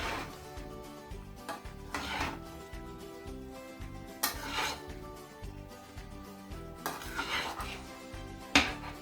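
Bottle gourd and snakehead fish stirred in a cooking pot, close scraping and clinking of a utensil against metal in several bursts over a faint simmer, no talk.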